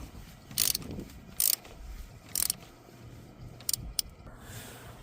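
Short ratcheting bursts from a tool tightening a car battery terminal cable on a Mitsubishi Outlander, several quick clicking runs with brief pauses.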